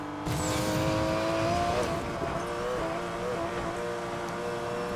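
Porsche 911 race cars roar through a race in Need for Speed Payback, with a steady, loud, sustained engine drone and shifting harmonic pitch continuing throughout.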